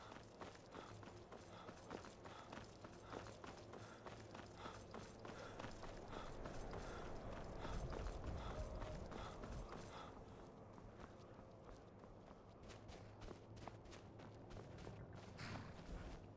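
A horse's hooves clip-clop at a steady trot in Skyrim, a continuous rapid rhythm of close, moderately loud hoofbeats over faint ambient background, easing slightly toward the end.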